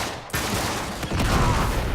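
A headshot gunshot in Uncharted 3, part of a burst of loud, close game gunfire with sharp onsets, running on busily across the moment with no voices over it.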